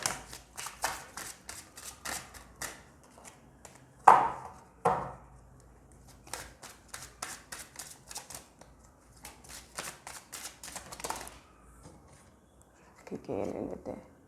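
Angel cards being shuffled and handled for a tarot reading, a series of soft riffling flicks and taps in irregular bursts, fairly quiet and close, with a few sharper slaps of cards between them.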